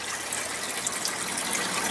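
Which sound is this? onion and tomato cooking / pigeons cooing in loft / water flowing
water flowing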